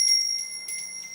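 Small decorative bells hanging at a home entryway give a light, high tinkling chime that repeats in a couple of soft bright strikes and rings out briefly, close and fairly quiet with no voices.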